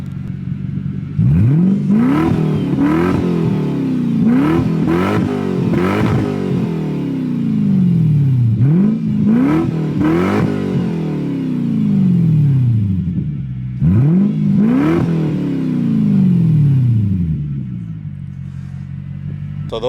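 Lexus SC400 engine on its stock exhaust, revved in repeated sharp blips that rise and fall over a steady idle rumble, loud and close, with pauses between bursts.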